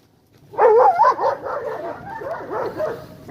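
A dog on a walk to the shops gives short yips and whining whimpers close by, a cluster of high, wavering cries that trail off into softer whines.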